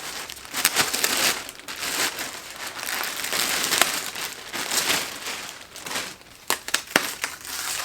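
Crinkly wrapping around a blue Coach denim Cassie bag is torn open and unwrapped: continuous close, loud crinkling and crumpling with sharper crackles, and no talking over it.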